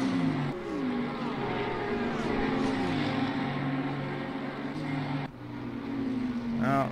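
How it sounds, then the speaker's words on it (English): Bentley GT3 race car in Assetto Corsa Competizione at Paul Ricard: a loud, continuous engine drone that rises through the revs, with pitch drops at gear shifts and a sharp upshift sweep near the end. "Of course, the Bentley sounds so good."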